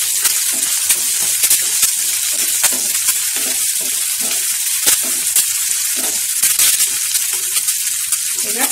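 Green chili and onion fry in a pan for idli upitu, a dense continuous sizzle and crackle with intermittent stirring clicks, close and fairly loud throughout.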